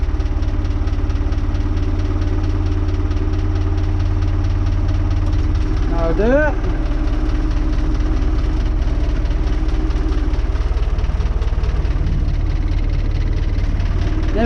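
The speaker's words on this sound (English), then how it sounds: "Let's start her back up." A tractor engine with a trailer hitched behind runs at a loud, steady, rumbling idle in snowy weather, its tone shifting briefly partway through, while someone speaks a few words.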